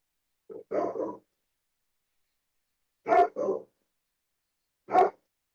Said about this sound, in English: Whose dog is that?